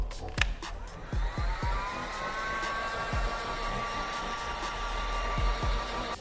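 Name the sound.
heat gun blowing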